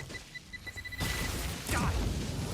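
A grenade blows up in the sci-fi game StarRupture: a few faint beeps, then a sudden loud blast with a second surge of roaring noise following close behind.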